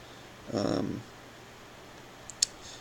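A computer mouse gives a couple of quick, light clicks while drawing lines on a Bitcoin price chart in Cryptowat.ch, after a short burst of voice.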